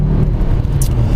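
Steady car interior road noise from a vehicle being driven, continuous low rumble with a brief brighter hiss near the end, no talking.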